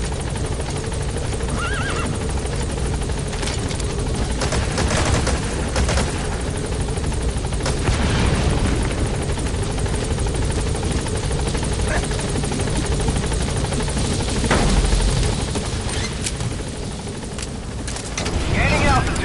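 Helicopter in the video game Metal Gear Solid V lifting off, a steady loud rotor and engine roar running throughout with brief sharper bursts, gunfire-like cracks and game effects mixed in.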